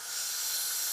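A steady, high airy hiss of an Iwata Revolution CR airbrush test spraying cleaner, close and continuous for about a second, rising slightly at the start.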